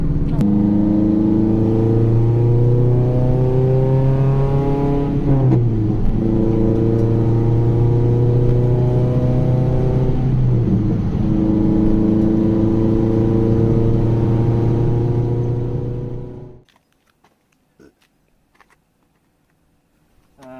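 Toyota Celica T23 engine drones steadily from inside the moving car, with the pitch dipping twice between gears before the sound cuts off abruptly near the end.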